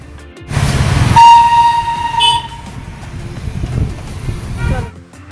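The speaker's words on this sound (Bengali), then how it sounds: "অবশেষে দেখা মিলল টয় ট্রেনের।" The Darjeeling toy train passes close by, its horn tooting loudly in a long sustained blast with further toots over the rumble and clatter of small rail cars, fading abruptly near the end.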